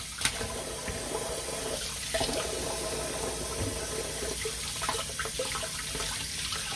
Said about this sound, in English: We'll clean it off real good. Give the chicken a bath.